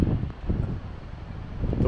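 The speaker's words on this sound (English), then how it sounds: "The wind is whipping" Strong wind buffets the microphone at an overlook in Cloudland Canyon State Park, Georgia, a steady rough roar with gusty swells throughout.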